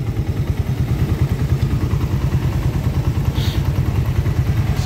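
A motorcycle just refitted with new sprockets runs steadily nearby, its engine giving a loud, even, throbbing idle with slight clatter and no voices.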